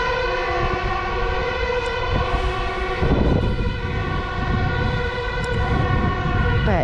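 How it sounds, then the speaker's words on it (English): A loud fire truck siren wails steadily with a strong layered tone over low city traffic rumble, sounding close and sustained as the truck goes by. "It's a fire truck zooming across there."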